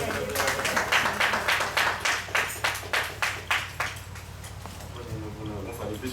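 Applause from an audience at a summer revival conference session, a run of clapping bursts that rises and thins out over several seconds with a low hum beneath.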